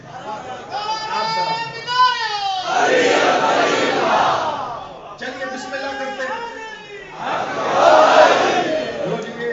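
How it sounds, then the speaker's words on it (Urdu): A crowd at a Jashan-e-Zahoor celebration for Mola Ali Asghar shouts religious slogans in loud, swelling bursts that answer a voice, alternating with his amplified speech. "آپ نے پیٹ بھر کے نعرے لگائے"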